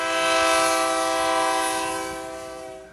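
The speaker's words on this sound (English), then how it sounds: "We're going to hear the train coming through on the Junction phone line." A train passes with its horn blowing, heard over a phone line on a radio show: a loud, sustained multi-tone blast that holds steady, then slowly fades as the train moves away.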